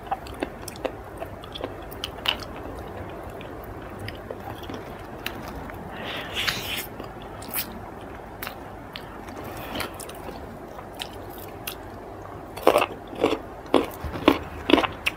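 Crunchy, wet chewing of pickled clams marinated in soy sauce, close and fairly quiet, with irregular bites and smacks that grow louder near the end.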